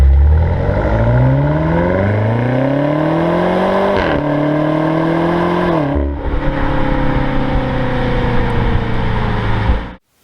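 A BMW X5M Competition V8 revs hard, climbing through rising pitch sweeps with brief drops between pulls, loud and close before cutting off abruptly at the end.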